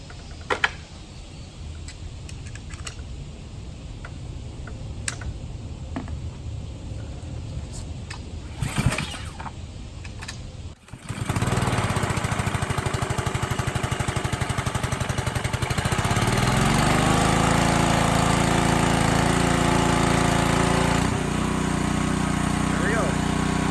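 A Ryobi pressure washer's engine runs loud and steady through the second half, after quieter handling and small knocks, with a person talking over it.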